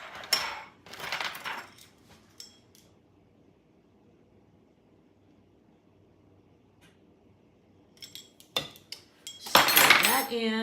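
A spoon clinks and scrapes in a pot of candy mixture as baking soda and vanilla are stirred in, in bursts separated by a quiet pause, with a loud clatter near the end.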